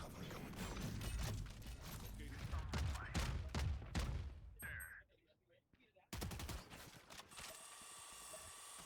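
Rapid automatic gunfire in Valorant during a university match: dense bursts of sharp shots for several seconds, a brief quiet lull with faint beeps, then more shots and a ringing tail.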